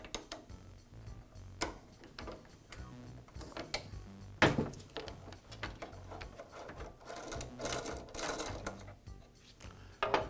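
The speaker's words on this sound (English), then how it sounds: "I'll use the wrench that came with the pointer to remove it." A wrench turning to loosen a screw on a DeWALT planer's adjustment handle, with quiet irregular ratcheting clicks and small metallic ticks close by.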